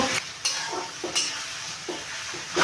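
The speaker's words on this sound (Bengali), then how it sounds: "রসুন বাটা আদা বাটা দিয়ে দিলাম একবার কষে নেব" Garlic and ginger paste stir-fried in a hot pan for a jackfruit and prawn curry sizzles steadily, broken by regular scraping strokes of a spatula about every half second.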